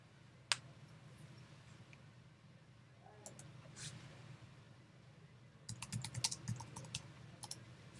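Faint, quiet keystrokes on a computer keyboard, a single click early on, then a short burst of rapid typing near the end, over low room hum.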